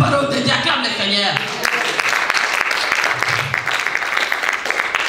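A church congregation breaks into loud, sustained applause in praise of the Lord, dense clapping that swells after a brief opening and carries on steadily, with voices mixed in.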